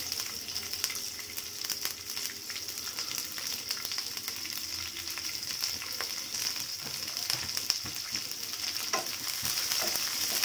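Onions frying in a kadai for kadai paneer, a steady close sizzle and crackle of hot oil running the whole time, dotted with faint clicks of stirring.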